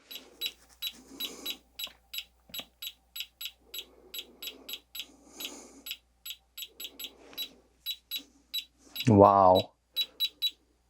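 Geiger counter clicking beside a radioactive Pentax camera lens, giving rapid, fairly regular sharp beeps throughout, with someone talking underneath and a brief loud exclamation near the end.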